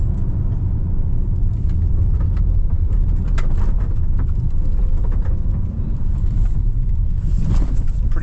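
A 2026 Hyundai Palisade 2.5T hybrid accelerates at full throttle on a wet road, heard from inside the cabin as a steady, heavy low rumble of engine and road noise with no pauses.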